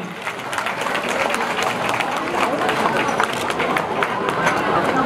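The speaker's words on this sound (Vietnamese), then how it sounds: "xin quý vị một tràng pháo tay thật lớn cho hoa hậu Trung Ngọc Như Thi" Large audience applauding a pageant contestant at a community gathering in San Jose, California, a loud sustained roar of clapping with crowd murmur mixed in from start to finish.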